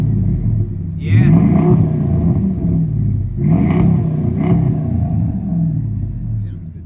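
A Dodge Hemi V8 fitted with a Flowmaster exhaust revs several times, deep rumbling swells rising and falling over a steady idle, loud and close, with a voice speaking briefly over it.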